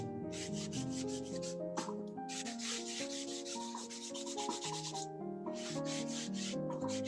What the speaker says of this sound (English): So we can take this and just rub in that Indian yellow.